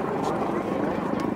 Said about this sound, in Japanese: 栃木県消防防災航空隊のヘリコプターオールリが侵入してまいります